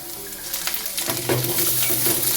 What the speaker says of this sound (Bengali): লাল করে আলুটা ভেজে নিচ্ছি